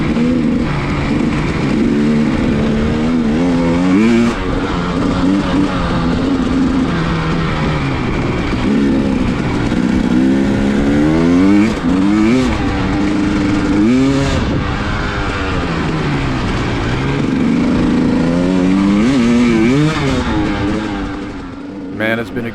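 A dirt bike ridden on a winter trail at night; its engine rises and falls in pitch through repeated revs and gear changes, close and steady throughout.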